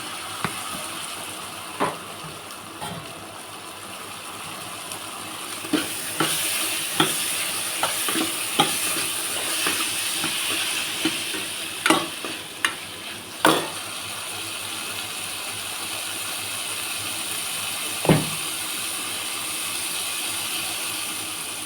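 Sliced snake gourd frying in a pan, a low continuous sizzle broken by sharp scraping clicks and knocks as a spoon stirs it, irregular and close, with no talk.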